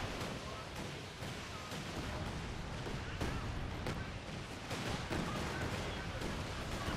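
Land Mattress rocket barrage in Company of Heroes 2, a dense rolling series of distant blasts and crackling impacts spread across several seconds, fairly faint and continuous.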